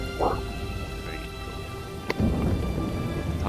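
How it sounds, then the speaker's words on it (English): A thunderstorm with constant rain hissing throughout, a low rumble of thunder underneath, and one sharp crack near the middle; steady, fairly loud and without talking. "Thunderstorms."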